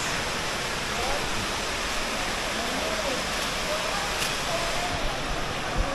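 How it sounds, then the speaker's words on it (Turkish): A large waterfall on a nature hike, roaring as a steady, dense broadband wash with no gaps, close and loud throughout; faint voices may sit beneath it. "Evet büyük şelalemize geldik."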